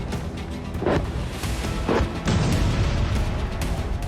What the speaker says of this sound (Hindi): धमाकों की गूंज से जर्रा जर्रा थर्रा उठा।